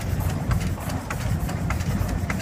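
A 1923 Case steam traction engine runs at a steam rally parade, giving a loud, steady mechanical rumble with regular faint chuffing beats throughout.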